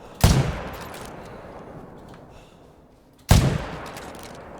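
Two loud, booming gunshots from the 300 gun in a video game, spaced about three seconds apart, each with a sharp attack and a long reverberant tail fading away.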